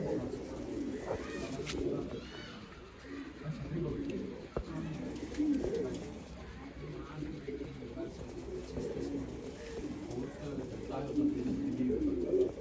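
Pigeons of an old-line breed coo softly and steadily in a loft in Bangalore, a continuous low murmur of several birds with someone talking over it.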